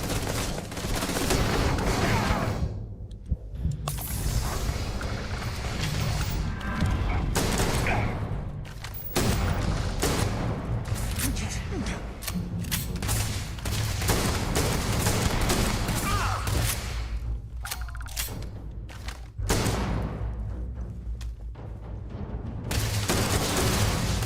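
Gunfire from an odd weapon in Starfield, loud sustained volleys of rapid shots that continue almost without pause, broken only by a few short gaps, with no talking.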